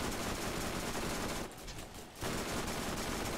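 SMG gunfire in the video game Borderlands: a loud, continuous rattle of rapid shots filling the whole stretch, with a brief drop in intensity midway before the firing resumes.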